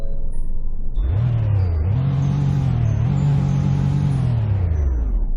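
A car engine in Roblox Greenville revs up from idle, climbing and dipping in pitch as the throttle rises and eases. It is a loud, close, continuous drone with no talking.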